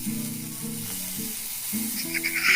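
Onions sautéing in a pan with ginger and curry leaves, a steady close sizzle running throughout beneath a low humming tone that steps in pitch, with brighter spitting crackles near the end.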